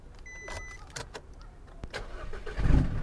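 Clicks and a brief electronic whine lead into an Isuzu D-Max pickup truck engine cranking and catching near the end, rumbling close by.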